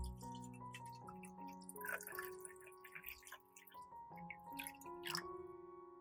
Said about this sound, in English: Prepare a glass cup. Pour water almost full.